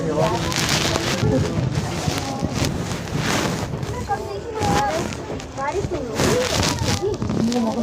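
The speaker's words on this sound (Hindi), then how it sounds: "बारिश हो रही है, बहुत तेज हो रही है।" Heavy rain comes down hard and loud, a dense constant hiss and patter mixed with gusty wind buffeting close to the microphone, while people talk over it.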